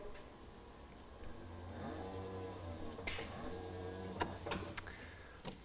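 A Power Drive electric-hydraulic stacker with a powered clamp drives away, giving a steady low electric motor hum with a few sharp clicks and knocks near the end.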